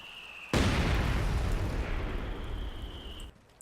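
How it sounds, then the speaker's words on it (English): A mortar fires in the Company of Heroes 2 strategy game, with a sudden loud boom that rolls into a long, rumbling blast and slowly fades over about three seconds. "Just pre-shooting with my mortar here, trying to see if he's inside this building"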